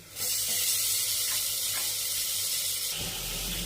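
Tomatoes dropped into a hot pan for Tamil Nadu–style kushka set off a loud, steady sizzle that fills the whole stretch, with a short rustle of stirring near the end and no voices.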